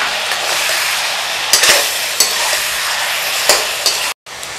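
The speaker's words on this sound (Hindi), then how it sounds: "तकरीबन 2 से 3 मिनट मैंने लहसुन अदरक के साथ इसको भूना है चिकन को" Chicken sautéing with chopped garlic and ginger in a karahi for an Afghani chicken karahi, a steady close sizzle with a few stirring scrapes and spatula knocks, no talk.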